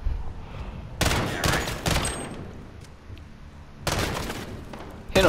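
Gunfire in the video game Call of Duty Modern Warfare, heard as two clusters of loud, rapid shots with a quieter stretch of game ambience between them.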